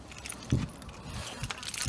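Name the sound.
keys jangling near a car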